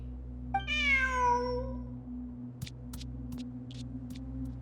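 A single clear cat meow in Genshin Impact, rising then falling, over a constant low electronic hum, followed by a few faint clicks.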